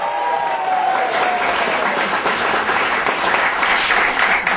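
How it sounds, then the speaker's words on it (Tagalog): Audience applause filling a stage show before a song is sung, dense and continuous clapping from a crowd throughout, with a brief faint tone near the start. "palakpak muna kayo"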